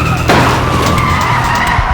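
A car in a film chase scene skids hard with a loud, grinding tire squeal over engine roar, a single sustained slide lasting under two seconds.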